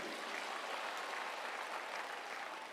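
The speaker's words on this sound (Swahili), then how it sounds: "Si mujipigie makofi jameni" Applause from a crowd at a public gathering in Nairobi, Kenya, a dense, even clapping that holds steady throughout, fairly distant, with no talk over it.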